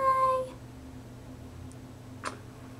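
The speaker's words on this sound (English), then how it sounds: "Sorry, my cat's here." A house cat gives a single short meow partway through, close to the microphone but quiet in a calm indoor room, with no talking during it.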